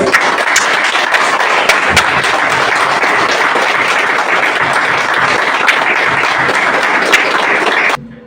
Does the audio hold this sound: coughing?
no